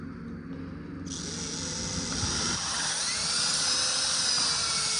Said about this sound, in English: Don't squeeze this hard and drill that end out.